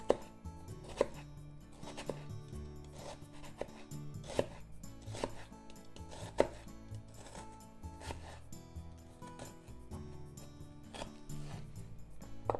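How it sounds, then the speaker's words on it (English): A knife works through shiitake mushrooms on a board, cutting slits with a run of quiet, irregular taps and scrapes at close range, no voices. "Remove the skin. And make some slits here."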